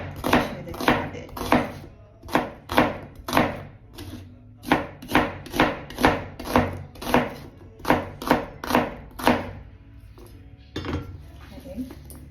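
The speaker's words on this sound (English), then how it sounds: "I'm just gonna slice it thin like the cabbage and add it" Rapid, regular knife strokes thinly slice an onion on a cutting board, crisp close chops in quick bursts with short pauses between runs, some faint clinks of dishes in a home kitchen.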